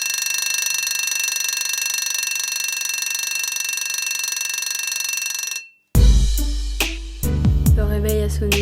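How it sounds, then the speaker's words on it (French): An alarm clock rings in a long, steady, loud electronic tone that suddenly cuts off, then gives way to an animated school-film scene with music and other sounds. "Le réveil a sonné, j'ai pas trop aimé."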